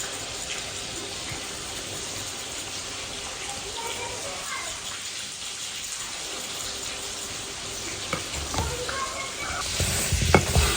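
Rice flour softened with milk is worked through a sieve for bhapa pitha, a continuous soft scraping and rustling hiss close by that grows louder and more clattery toward the end.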